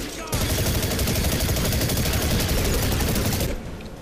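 Sustained rapid gunfire in The Chronicles of Riddick: Escape from Butcher Bay, a loud dense burst of automatic shots lasting about three seconds before cutting off, with no speech over it.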